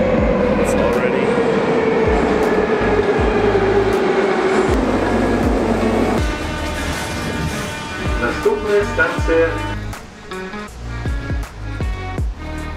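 A subway train in Belarus rumbles and whines along the track, pitch sliding as it moves, then clatters and squeals as it slows with some talk underneath.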